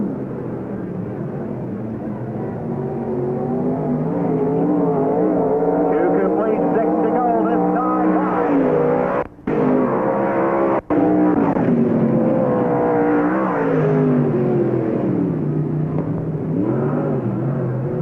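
Stock cars race around Knox County Raceway at the Barb Heinz Memorial, their engines roaring loud and continuous as the field passes, with a public-address announcer calling positions over the din.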